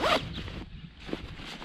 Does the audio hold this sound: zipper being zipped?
yes